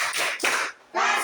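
Classroom students doing a rhythmic clap routine as an ice-breaking game at a junior high school, three short bursts of hand clapping with a brief gap before the last.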